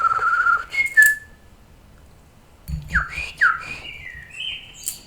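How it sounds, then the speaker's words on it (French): Birds chirping and whistling in Paris, a few short clear calls and warbling phrases separated by quiet gaps, close and moderately loud. "Vous entendez les oiseaux?"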